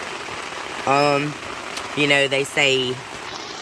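Rain falls on a tent at night on the Appalachian Trail, a steady soft patter and hiss running beneath a person talking close by.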